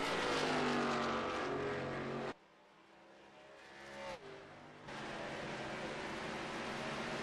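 A stock car in a Winston Cup racing video game roars loudly toward the line, its engine cutting out abruptly, a brief quieter gap with a faint tone, then the steady engine drone returns.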